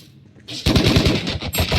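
Rapid automatic gunfire in the video game Valorant, a loud close burst of evenly spaced shots lasting just over a second after a quiet lead-in.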